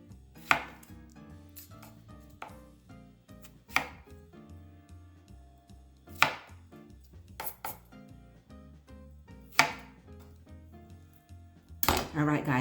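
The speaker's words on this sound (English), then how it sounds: "go ahead and give these a slice" A knife chops beet stems on a cutting board in a home kitchen, giving sharp, crisp strokes at uneven intervals, some near-double, with faint background hum and light kitchen clatter.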